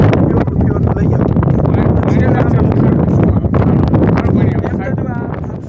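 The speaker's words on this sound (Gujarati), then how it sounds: "જબરજસ્ત પવન, આંધીની જેમ, વંટોળની જેમ પવન આવતો હતો" Strong, gusting wind buffeting the microphone outdoors on the salt desert of the Rann of Kutch, a loud continuous rumbling roar that rises and falls and eases off slightly at the end.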